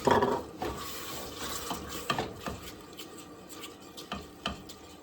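Water poured into a pot of sugar for apple pie syrup, a soft trickle with scattered splashy pours and faint clinks, fairly quiet and near, with no talking.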